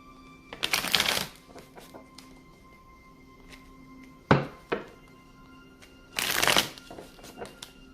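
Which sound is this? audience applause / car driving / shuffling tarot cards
shuffling tarot cards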